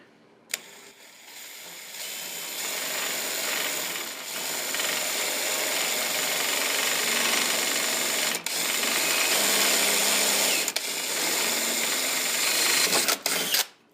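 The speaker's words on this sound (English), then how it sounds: "go here and I'll just drill." A power drill bores through an aluminum window well cover, a loud, steady whining grind held for about twelve seconds with brief dips, starting and stopping abruptly, close up and alone.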